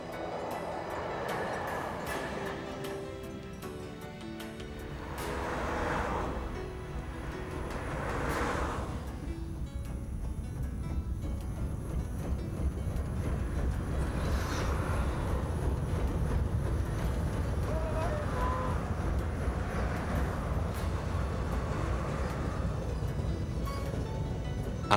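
A historic train from the founding era of Swiss railways rolls through Lucerne during a 150th-anniversary celebration, a steady loud rumble and clatter of wheels on track throughout, with faint whooshes and hisses rising and falling.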